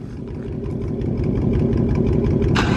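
A car engine idles with its muffler and resonator sawed off, giving a loud, rough, throbbing exhaust burble that grows slightly louder, with a burst of hiss at the very end.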